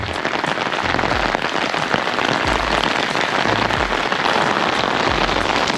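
Sudden rain shower in Beppu, Japan, a loud, dense, steady hiss of rain pattering on surfaces nearby, constant throughout with faint low rumbles, no talking.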